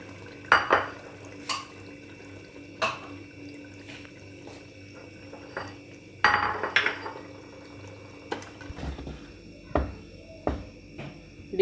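Cooked arbi baingan curry of taro and eggplant is scooped from a pan into a dish, with irregular metallic clinks and scrapes of a spoon against the pan, close and fairly clear.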